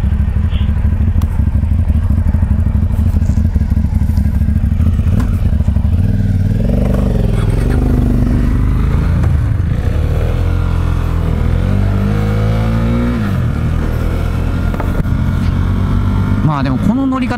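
A Honda automatic motorcycle pulls away, its engine note climbing and rising in pitch over a constant rumble, while people chat over it throughout.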